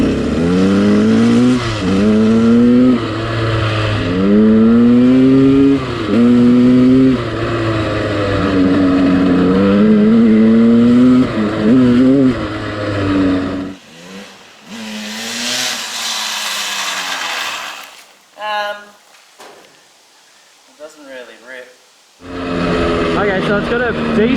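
KTM 200 dirt bike fitted with a Rekluse clutch, revved and ridden close by: a loud two-stroke engine climbing and falling in pitch, then cutting to quieter idle with short throttle blips before revving hard again.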